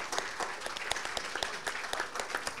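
Audience applause for the distinguished speakers closing a session at an SME business forum, a steady wash of many hands clapping with distinct individual claps standing out, moderately loud and continuous with no talk over it.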